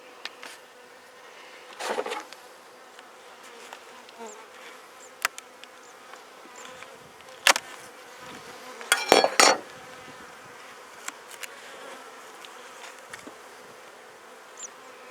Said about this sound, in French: Belle montée d'abeilles, ça va bien.